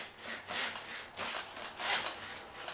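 Hand saw cutting through the plastic of a Buzz Bee Double Shot toy blaster, giving soft, even back-and-forth rasping strokes, close and fairly quiet, with no talking.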